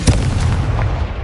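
A Confringo fire spell in the video game Hogwarts Legacy bursts into a loud, close boom with a rumbling tail, a single sharp blast that fills the short moment.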